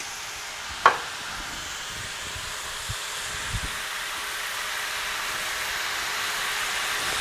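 Stir fry with sauce just added hisses steadily in a pan at moderate volume. An early metallic tap and a couple of faint knocks sound over it.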